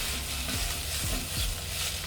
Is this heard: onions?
yes